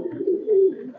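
A red-necked high-flyer pigeon at a Khulna loft gives a single rolling coo lasting about a second, close and clear, swelling in the middle before fading.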